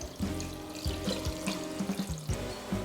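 Water pours into a pot in a steady stream, sloshing and splashing in uneven bursts, close and moderately loud.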